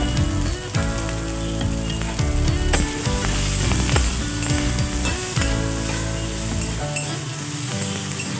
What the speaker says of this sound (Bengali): সোয়াবিনগুলো আমার ভাজা হয়ে গেছে,